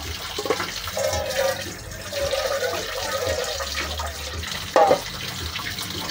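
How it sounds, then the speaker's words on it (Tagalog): Menudo stew bubbling and simmering in a pot on the stove, a steady watery boil with low rumble and brief louder gurgles near the end. "Tapos ayan na, kumukulo na oh."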